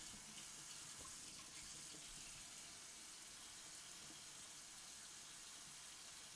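A faucet runs steadily into a sink, a constant hissing rush of water with no voices.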